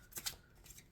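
Tarot cards are shuffled in a few quick, papery riffles, two close bursts followed by softer flicks, faint and near.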